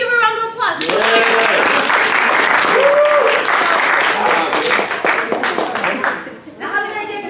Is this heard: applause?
yes